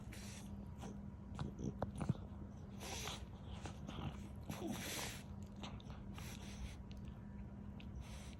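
A French bulldog puppy gnaws and bites on a shoe, with soft, irregular close chewing and snuffling sounds running steadily throughout, fairly quiet.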